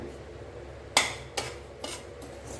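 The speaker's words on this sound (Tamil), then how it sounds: "ஒரு கடாயில் நம்ம சேர்த்துக்கலாம் ரவையை" Semolina going into a kadai and being stirred: a sharp metallic clack of a utensil against the pan, followed by two softer scraping strokes over a quiet background.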